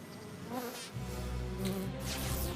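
Steady insect buzzing hums throughout, a droning whine that thickens and swells partway through, fairly close and without any talking.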